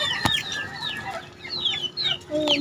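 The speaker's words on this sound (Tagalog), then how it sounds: "Manok." Chickens cluck and call in an outdoor yard, a few overlapping clucks and squawks at moderate distance over a busy background of other bird sounds and faint ambient noise.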